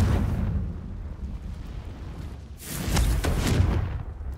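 A Confringo spell explodes in Hogwarts Legacy, a deep rumbling blast followed by a sharp, bright burst with crackling debris, loud and close, with no talking.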